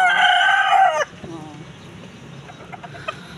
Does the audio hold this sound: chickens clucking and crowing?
yes